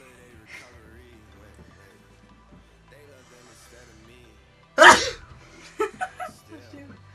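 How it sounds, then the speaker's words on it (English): A single loud sneeze bursts out midway through otherwise quiet sounds, followed by a few short breathy noises. "I'm gonna sneeze."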